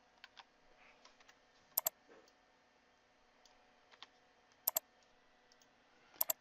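Someone typing database credentials on a computer keyboard: sparse, soft key taps in small bursts, punctuated three times by sharp double clicks, close and quiet with no speech.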